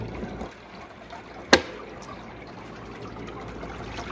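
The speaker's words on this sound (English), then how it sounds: "if you want to just put water in it manually, you just pour it in right there" Water trickles quietly as it is poured by hand into a Hessaire portable evaporative cooler. The faint, steady dribble is broken once by a brief sharp click partway through.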